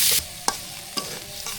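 Bitter gourd and potato slices frying in a pan, a short burst of sizzle followed by a few crisp stirring scrapes, close and fairly quiet.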